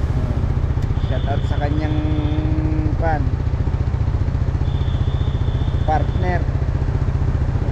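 A motorcycle ride on the way to the grasslands of Taiwan, with a steady, loud engine drone and road noise running throughout while someone talks over it.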